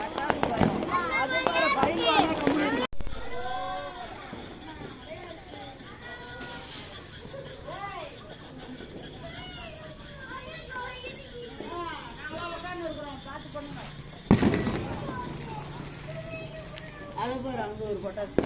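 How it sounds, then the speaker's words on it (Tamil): Firecrackers bursting outdoors during Karthigai Deepam, with two loud sharp bangs near the start and again midway, under constant crowd chatter and children's voices. "அங்க ஒரு பட்டாசு"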